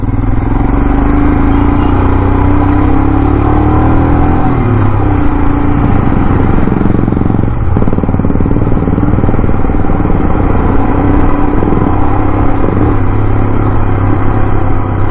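A Himalayan 450 motorcycle on an off-road test ride gives a loud, close, continuous engine rumble that holds steady with slight rises and dips for the whole stretch.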